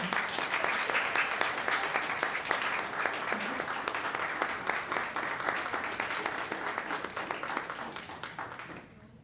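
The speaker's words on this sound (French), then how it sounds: "Allez, on peut les applaudir." A council meeting audience applauds two coaches, a steady dense clapping that starts strong and gradually fades out over several seconds.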